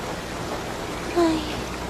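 Steady rain falls at night as a dense, even hiss with no breaks, with a faint brief tonal sound partway through.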